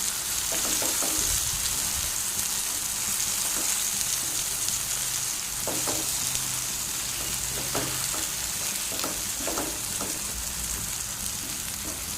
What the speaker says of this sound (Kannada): ನೋಡಿ ಇವಾಗ ಸ್ವಲ್ಪ ಎಣ್ಣೆ ಹಾಕಿ ಬಿಸಿ ಮಾಡಲಿಕ್ಕೆ ಇಟ್ಟಿದ್ದೇನೆ ಇವಾಗ ಒಂದೊಂದನ್ನೇ ಇಡ್ತೇನೆ ಇದು ಬೇಗನೆ ಫ್ರೈ ಕೂಡ ಆಗ್ತದೆ